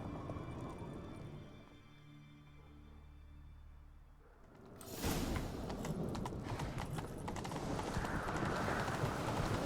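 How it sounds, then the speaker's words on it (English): Hooves clip-clop at a trot in The Witcher 3 video game, then a louder rush of galloping takes over, steady and close, with no talking. "Grab a horse, we'll chase him down."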